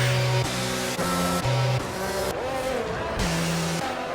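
Race cars in a racing video game roar down the straight at the Canada round, several engines with shifting pitch and gear changes passing close and loud, with no talking.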